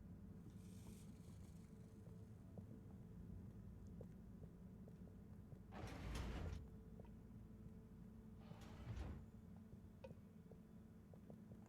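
A door opening in the game Harold Halibut: two soft whooshing slides a few seconds apart over a quiet, steady ambient hum, faint and unaccompanied by speech.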